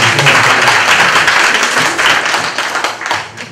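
Applause from an assembly approving an executive board lineup, a dense wash of many clapping hands that stays loud and steady before easing slightly toward the end.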